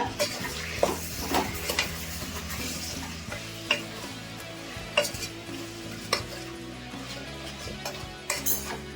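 Brinjal pieces coated with Kashmiri chilli powder, pickle powder and salt are stirred in hot oil in a pan, a steady sizzle running under repeated scraping and clinks of the spoon against the metal.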